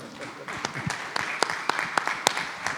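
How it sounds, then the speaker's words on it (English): A small audience at a fintech payment infrastructure talk gives a short, sparse round of applause: scattered, distinct claps at moderate volume rather than a dense roar. "I think that needs a round of applause"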